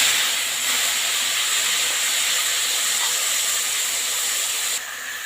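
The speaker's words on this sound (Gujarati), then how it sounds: "હવે આ મસાલાને સરસ મજાનું ઉકળવા દેવાનું છે" Spiced masala of mustard seeds, cumin and asafoetida sizzles and bubbles steadily in a pan for a stuffed-brinjal and cowpea curry, a loud continuous hiss with no talking.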